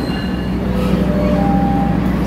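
A train hauled by a CC206 diesel locomotive pulling four economy coaches and a generator car gives a loud, steady rolling rumble with faint high wheel squeals drifting over it, close by and with no talking.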